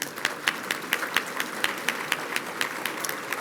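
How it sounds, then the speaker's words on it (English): Audience applause at an awards dinner: a small crowd clapping steadily, with distinct sharp claps standing out over a soft, continuous patter, fairly close and with no talking. "can you please give yourselves a round of applause?"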